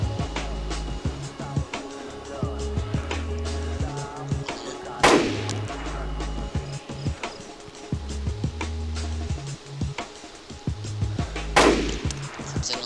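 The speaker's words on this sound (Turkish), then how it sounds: "bu tüfek efsane ya. Attı mı vuruyor ya" Rifle shots in the DayZ video game, sharp broadband cracks standing out at about five and eleven and a half seconds over a busy bed of game ambience and repeated low thumps.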